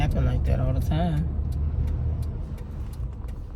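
A bus rumbles along the road in a low steady roar that gradually fades, while someone talks over it at the start.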